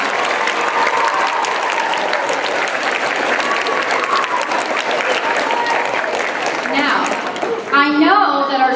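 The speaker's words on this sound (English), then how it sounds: "let's honor them right now with a round of applause" A school Veterans Day assembly for grades 7 and 8 gives a long, loud round of applause to honor veterans, sustained crowd clapping with a few children's voices and cheers rising near the end.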